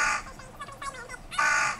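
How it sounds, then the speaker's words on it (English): Crows caw outdoors in two harsh, raspy bursts, one at the start and a louder one near the end, with quieter rough calls between them over steady background hiss. "Those crows always make me jump."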